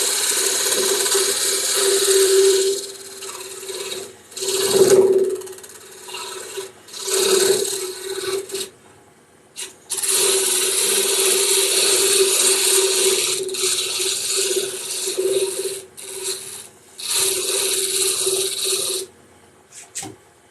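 A wood lathe spins a lidded box blank while a tool cuts the tenon, a steady hum under repeated scraping passes that stop and start, with short quiet gaps between cuts.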